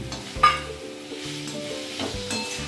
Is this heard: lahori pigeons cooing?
no